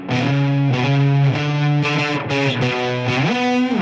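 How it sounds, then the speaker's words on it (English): Two fuzzed out, heavily distorted electric guitars play a loud riff of sustained chords that shift in pitch, thick and saturated with no voices, from a song. "From its fuzzed out dual guitar parts"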